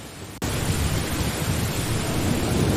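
Thunderstorm at sea near the British Isles: after a brief quieter moment, heavy, steady rain and a deep, rolling rumble of thunder swell in and hold loud and continuous, with no voices.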